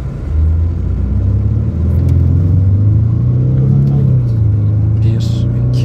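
A Mercedes-Benz W221 S350 4MATIC, after gearbox repair, launches at full throttle, its engine a loud, close, rising roar as it climbs through the revs and shifts, with a voice briefly speaking over it.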